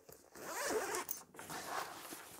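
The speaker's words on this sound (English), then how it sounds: "Zip that back up." Zipper on a front pocket of a Razer Concourse Pro backpack being pulled closed, a close, raspy zipping stroke followed by a second shorter pull, quiet and with no voice.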